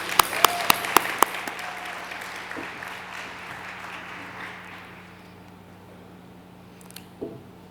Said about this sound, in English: let's give a big round of applause for all the people who made this day possible.